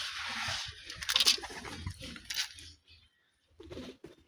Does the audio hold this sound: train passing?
no